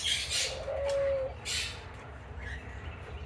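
Doves in an aviary at a bird sanctuary coo softly, two or three low rounded calls at moderate distance, with a faint chirp from another bird over a quiet background.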